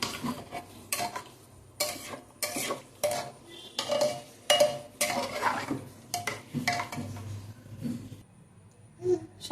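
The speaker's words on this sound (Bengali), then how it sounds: "এবার ভালো করে মাখিয়ে নেব।" Khichuri ingredients being mixed in a pot with a metal spoon, a series of sharp scraping clanks and stirring knocks at irregular intervals, close and clear with no talking.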